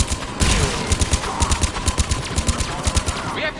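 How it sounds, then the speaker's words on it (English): Turret gunfire in Mass Effect Legendary Edition: a loud, steady stream of rapid, evenly spaced shots firing without pause for the whole stretch, close and dense. "We have to take out those turrets!"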